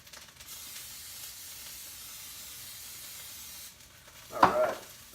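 Roast beef sears in hot oil in a pan, giving off a steady, soft sizzling hiss that dips briefly, then flares in a short, louder crackling burst near the end.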